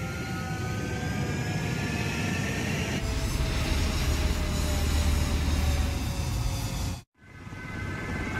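A jet fighter in Ace Combat 7 spools up and takes off with a steady, loud engine roar and rising whine that carries on for several seconds, then cuts off abruptly and briefly before resuming.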